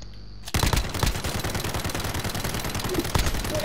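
Video game gunfire in Call of Duty: Modern Warfare custom games, close and loud: rapid, repeated bursts of shots hammering out almost continuously, with a short quiet moment before it starts.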